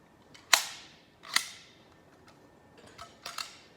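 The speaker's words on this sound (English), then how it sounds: "I need a nail gun, and I need brads." Pneumatic nail gun driving 1 1/4-inch brads into wood, several sharp snapping shots spaced apart, two loud and clear, followed by a quicker double pop, close up with no talking.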